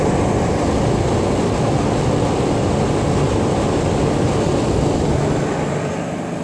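A 1973 Carrier air conditioner runs steadily with a broad, even whooshing roar of fan and airflow, loud and close, without talk, easing slightly at the end.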